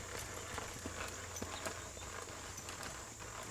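Horse hooves clop steadily at a walking pace over a constant low hum of background noise, fairly faint and a little distant.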